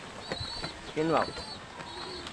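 Racing pigeon cooing once, a short throaty warbling call close by, with faint chirps and background noise around it.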